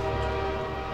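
A train in Half-Life 2's City 17 gives off a steady sustained tonal horn or whistle, loud and close, with no talking over it.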